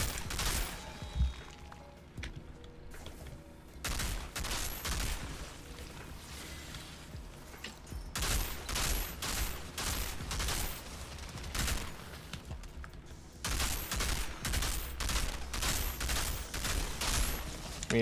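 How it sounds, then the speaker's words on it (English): Cannon fire in the looter-shooter video game Outriders, heard as repeated loud bursts of booming blasts in clusters, close and dense, with quieter stretches of combat noise between volleys. "That's a cannon."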